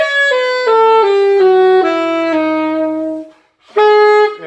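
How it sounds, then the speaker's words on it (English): A C altered dominant (super locrian) scale is played as clear sustained tones, one note after another in a steady descending run, then a brief pause and another note, loud and alone without talk. "So now we have written down a C altered dominant scale."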